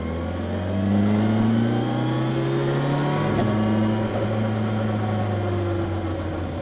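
A 2025 Kawasaki Versys 1100 motorcycle engine hums steadily while riding, its pitch rising and falling with throttle, close and loud throughout with no voices.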